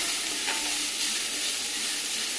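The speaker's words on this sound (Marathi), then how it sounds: "कांदा एकदा परतून घेतला" Onion sautéing in a small amount of oil for a dried oyster dish, giving a steady close sizzle with faint stirring scrapes and no voices.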